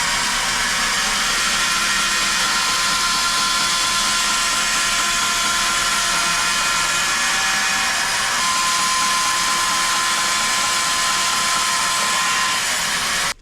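A saw cuts steadily through a wooden pen blank of historical wood for a Jayhawk pen kit, giving a loud, continuous, even whine that holds for the whole stretch with no talking.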